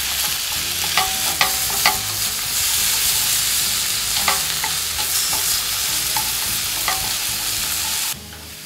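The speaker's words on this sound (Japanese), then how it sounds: "ちょっとほぐしながら炒めていきましょ" Pork bulgogi with plenty of vegetables sizzles steadily in a hot pan while a spatula clacks sharply against it at irregular intervals, close and continuous, with no voices heard.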